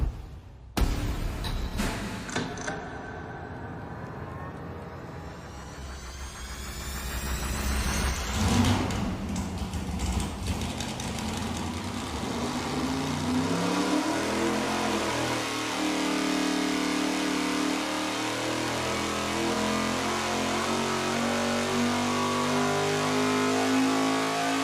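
A V8 engine runs a full-throttle pull on an engine dyno with tight exhaust valve lash, starting with sharp revving bursts and then a loud, steady roar that climbs in pitch and stays sustained to the end, with no talking.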